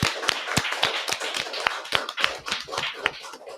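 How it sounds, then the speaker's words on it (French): A small audience at a film festival round-table discussion gives sparse, scattered applause, distinct individual claps over a few seconds with no voices. "Moi, je pense que ça mérite des applaudissements."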